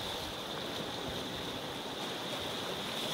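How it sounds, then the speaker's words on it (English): Waves break on the shore at Beadnell in Northumberland, heard as a steady, fairly quiet wash of surf with no distinct crashes and no voices. "sound of the waves breaking on the shore."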